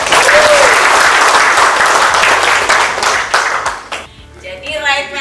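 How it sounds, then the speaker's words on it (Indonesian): A room full of trainees at a career development training session breaks into loud applause, a thick continuous clatter of clapping that thins out and fades near the end as a voice comes through. "Tepuk tangan dong."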